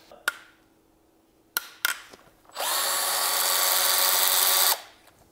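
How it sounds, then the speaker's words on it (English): Power ratchet removing bolts from a Porsche engine during an oil pump repair: a few sharp clicks and clanks, then a loud steady whirring burst lasting about two seconds before stopping abruptly. "let me get our power ratchet."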